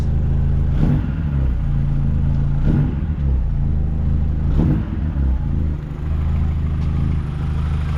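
A car engine revs up several times in short bursts, each rise swelling and falling back to a steady rumble between.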